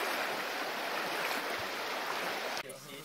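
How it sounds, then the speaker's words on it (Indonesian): River water rushes and streams steadily during a river crossing on a jungle expedition in Lebong Simpang, Indonesia, forming a dense, continuous wash of flowing water that drops slightly near the end. "Kembali kami menyeberangi sungai."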